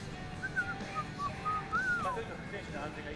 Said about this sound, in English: A whistle while we work.